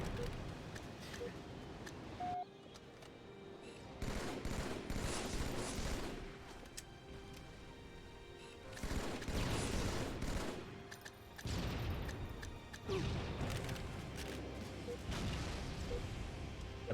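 Gunfire crackles in the Halo video game in repeated bursts of rapid shots and booms, separated by short quieter gaps.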